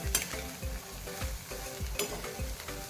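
Khoa being stirred into maida flour with ghee in a hot pan for a bakery-style barfi: rhythmic scraping strokes, roughly two or three per second, over a soft sizzle.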